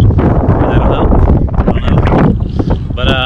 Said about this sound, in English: It's a little windy, uh, probably tough to hear.